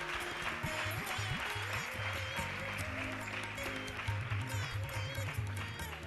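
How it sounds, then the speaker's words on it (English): An audience at a valedictory ceremony applauds prize winners, a fairly faint, sustained wash of clapping heard at a distance, with some voices and other sounds mixed in. "Please give them a big round of applause."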